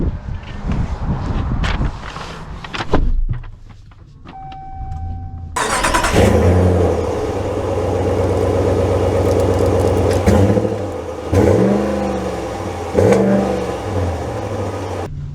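2024 Ram 1500 Limited Night Edition pickup truck starting up and pulling away, a loud engine catch followed by repeated rising revs as it accelerates through gears, heard close with wind noise and no talk.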